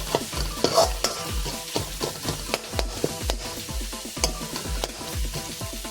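Masala frying in a pan is stirred with steady rhythmic scrapes, each stroke over a soft continuous sizzle, close and fairly quiet.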